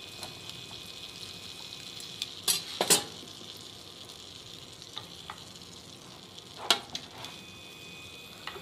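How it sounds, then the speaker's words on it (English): Dried peppers sizzle and crackle steadily as they pan-fry in a hot pan, with a few sharp clinks and scrapes of a utensil stirring. "we're gonna end up pan frying these"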